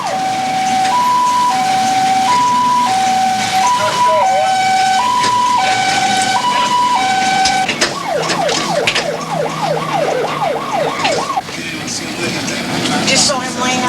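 A wailing Kings County ambulance siren alternates between two tones, then switches to a fast rising-and-falling yelp, loud and close over traffic noise.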